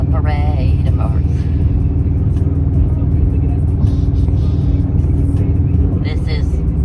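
Steady, loud engine and road rumble from a car moving along a freeway in a line of traffic, a continuous drone with brief voices heard over it.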